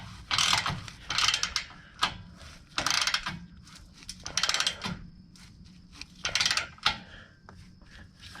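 A hand ratchet tightening a bolt on the driver side air tank of a 2007 Freightliner Columbia truck, with quick bursts of clicking pawl strokes separated by brief pauses, fairly close and clear, no speech.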